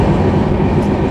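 Steady rumbling roar inside a moving LHB passenger coach on an Indian express train, loud and continuous, with wheel and track noise and no talk.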